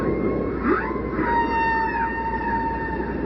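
Humpback whale song rings out alone, with sweeping, rising and falling moans and long tonal wails over a steady underwater hiss.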